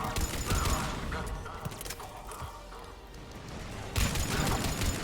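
Gunfire in Mass Effect 3 combat, bursts of rapid shots and clattering impacts, loud at the start and again near the end, with a quieter, rumbling stretch in between.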